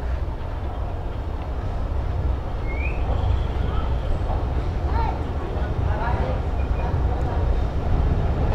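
Dhalarchar Express train arriving at Dasuria railway station in Pabna, a continuous loud low rumble of rolling carriages with faint squeals and clanks, heard from aboard, under a voice talking.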